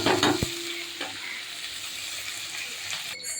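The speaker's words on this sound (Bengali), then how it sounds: "সবগুলো দেওয়া হয়ে গেল, একটু নেড়ে দিই। ভাজা হতে থাকুক।" Fish and a few shrimp fry in a pan with a steady, close sizzle, stirred with a couple of sharp utensil clinks near the start and soft scraping afterward.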